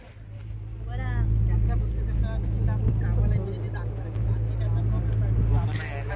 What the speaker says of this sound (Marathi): आता बोट चालू झाली आहे